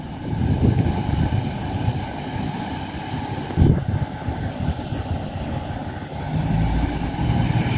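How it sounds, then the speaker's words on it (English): An East Midlands Railway class 222 diesel train, unit 222-021, departs Market Harborough, a continuous rumbling drone with a brief clunk midway and engine noise building toward the end. "About to depart now, 8 minutes late, we have the late running 1132 East Midlands Railway service to Nottingham."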